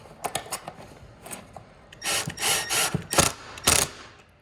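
A screw driven into birch plywood with a ratcheting driver or drill, heard close as a series of short grinding, rasping bursts that build into longer loud runs toward the end.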